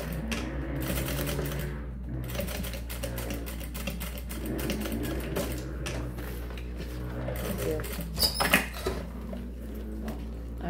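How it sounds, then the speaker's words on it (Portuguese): A sewing machine runs steadily, stitching a seam along the edge of a small fabric waist pouch; the needle clatters rapidly and evenly up close for the whole stretch, with a few sharper knocks near the end. "vou virar aqui e passar uma costura na beirinha"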